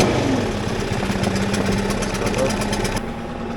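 A small pull-start engine, about 11.5 to 12 kilos with a strap, runs steadily and loud close by with a rough, throbbing buzz. It eases back near the end while still running.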